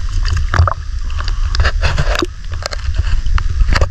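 Water sloshes and splashes around a small boat, with paddle strokes, knocks and gurgles against a steady background rush.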